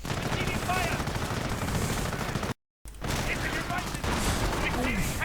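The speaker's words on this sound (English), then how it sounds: "firing away with their Sten guns." Sten guns firing in a World War II strategy video game, rapid bursts of small-arms fire over a dense battle din, cut by a brief silent gap midway, with a voice talking over parts of it.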